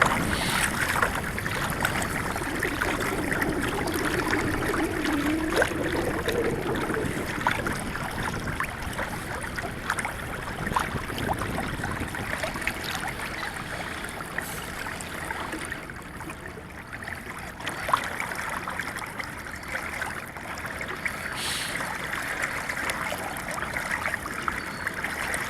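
A small boat cruising under an electric trolling motor heading back into a canal, giving a steady wash of water and hull noise with a faint motor hum throughout, continuous and unbroken, with no voices.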